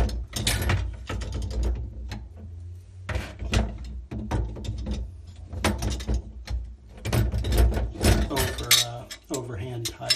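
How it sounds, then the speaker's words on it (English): A wrench tightening a nut gives a series of metallic clicks, clanks and scraping knocks in uneven bursts, close and moderately loud, with brief quiet gaps between the turns. "Sometimes I actually turn the wrench backwards just to get a better angle on the tooth of that nut"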